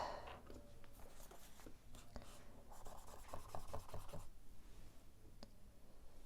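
A brass dip nib in an acrylic holder scratches and swipes ink across paper in repeated short strokes, a soft dry scratching texture close up and quiet, with no voice over it.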